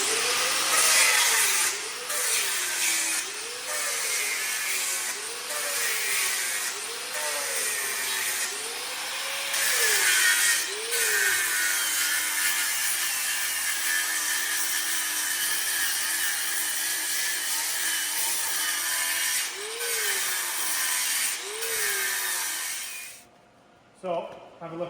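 An angle grinder fitted with a 24 grit disc grinds welds on a Kenworth truck frame, a loud, continuous abrasive whine that rises and falls in pitch with each pass before spinning down at the end.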